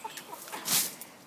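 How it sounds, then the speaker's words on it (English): A pet chicken on a chicken farm clucks during the morning routine, giving a few short, soft clucks at a moderate distance, then one slightly louder burst near the end. "Mrs. Wilson, the quirkiest chicken on the farm."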